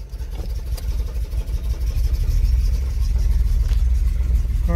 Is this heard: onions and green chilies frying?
no